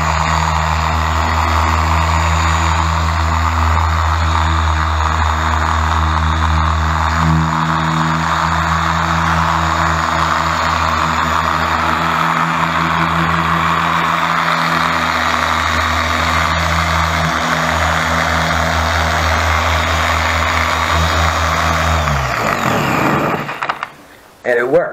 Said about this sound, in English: I'm going to turn it on.